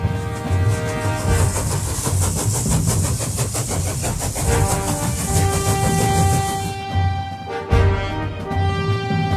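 A Thomas the Tank Engine steam locomotive effect puffs along in loud, rapid rhythmic chuffs over a sustained harmonic whistle-like drone, then cuts off abruptly near the end before a brief resumption.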